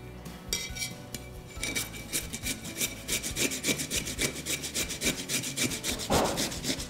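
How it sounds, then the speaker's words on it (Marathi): A whole cucumber is grated by hand for sabudana thalipeeth, giving a rapid, regular scraping rasp with rhythmic strokes that speed up as it goes, close and moderately loud, with no talking. "काकडी किसून घ्यायची"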